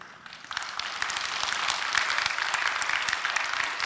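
A church congregation applauds during a worship service: continuous, dense clapping from many hands that builds slightly and holds steady, with no talking.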